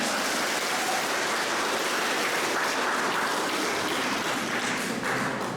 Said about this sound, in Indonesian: Tepuk tangan untuk gedung.